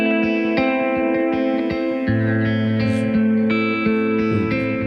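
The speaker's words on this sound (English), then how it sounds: "So we get a little spring reverb" An electric guitar runs through the spring reverb of a Galaxy delay pedal, chords ringing with a splashy, shimmering wash and strummed attacks under the sustained tail.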